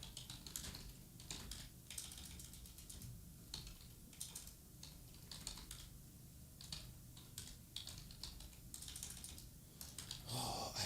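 Steady rapid typing on a computer keyboard, with dense clattering keystrokes in uneven bursts throughout, fairly quiet and close, with no voices.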